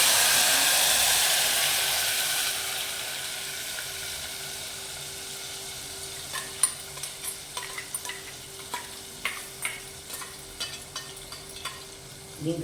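Curry paste of tomato, onion, garlic, green chilli and ginger goes into a pan after cumin, starting with a loud hissing sizzle that fades over a few seconds into quieter frying with light scattered stirring clicks.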